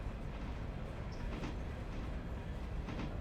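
Freight train rolling along track in the Railroader game, a steady dense rumble with faint rhythmic wheel clatter throughout, no talk.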